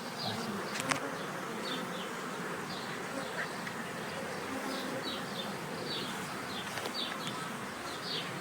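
Steady, dense buzzing of many honey bees flying around nearby, a continuous drone with individual insects passing close now and then.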